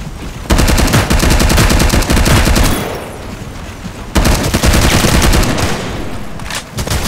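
Rapid bursts of automatic gunfire from a mobile first-person shooter, loud and dense in two long volleys separated by a brief lull with lighter shots.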